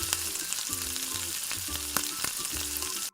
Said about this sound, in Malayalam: ഒരു ഭാഗം ചെറുതായിട്ട് ഫ്രൈ ആയി വരുമ്പോൾ നമുക്കതെല്ലാം കൂടെ മറിച്ചിട്ട് കൊടുക്കാം.